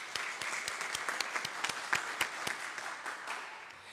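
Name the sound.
applause from a congregation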